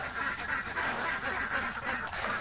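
Pet ducks in a backyard pen quacking to be let out for food, a continuous chorus of nasal calls at close range, steady and fairly loud with no clear talk.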